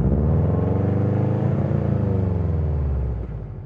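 A tuned car with an aftermarket exhaust, stopped at a police roadside check, revs loudly and steadily up close for a noise measurement, a deep sustained exhaust roar that eases off near the end.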